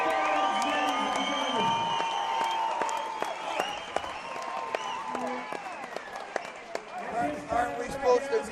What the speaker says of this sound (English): Big round of applause for all our veterans